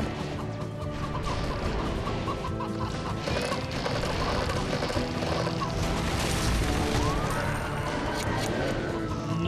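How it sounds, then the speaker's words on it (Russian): Chickens in the LEGO Movie video game cluck and squawk continuously at close range over a busy game soundscape, with overlapping calls and occasional crashing effects throughout. "Слишком много куриц."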